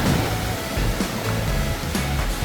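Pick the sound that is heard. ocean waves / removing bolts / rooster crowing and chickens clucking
ocean waves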